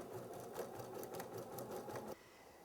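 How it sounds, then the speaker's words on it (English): A Bernina sewing machine stitches a Spanish hem stitch with cord, joining two pieces of fabric: a steady, close, fast mechanical whirr that runs continuously, then drops to a quieter hum near the end. "And you just simply sew until you've joined the two pieces together."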